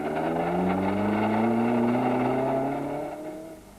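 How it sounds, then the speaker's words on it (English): A VW Golf rally car from the 1993 Sasol Rally, its gearbox broken, strains uphill in reverse. The engine holds a loud, steady droning whine that slowly rises in pitch, then fades slightly at the end. "Habich struggles with the broken gears, unable to find a gear low enough to get the Golf going, let alone up the hill."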